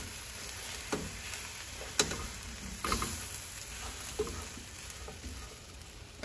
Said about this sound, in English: So now I'm going to stir that up.